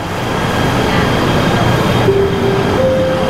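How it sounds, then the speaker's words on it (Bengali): A short six-coach commuter train pulls into the KL Sentral platform in Kuala Lumpur with a continuous close rumble, and brief thin whine tones rise near the end. "ট্রেন ঢুকছে বাটু কেভের উদ্দেশ্যে।"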